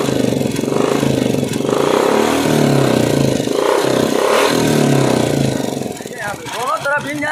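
A Royal Enfield Bullet engine runs steadily up close with a rapid mechanical ticking clatter from the hydraulic tappets, low on engine oil, then revs briefly near the end.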